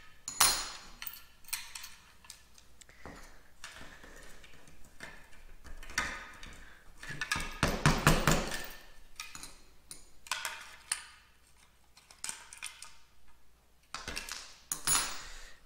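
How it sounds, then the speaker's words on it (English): A wrench working fasteners loose on a Hawker Typhoon aileron pulley bracket during restoration: irregular metallic ticks, clinks and ratcheting clicks, close and fairly quiet, with a busier cluster midway. "Just gonna use a wrench."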